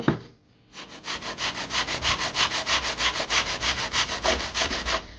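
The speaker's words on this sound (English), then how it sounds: "then we sand to the line" Steady rhythmic sanding strokes on wood with a sanding block, sanding a cut part to the line, a rapid back-and-forth rasp repeating about five times per second, close and loud, after a brief pause.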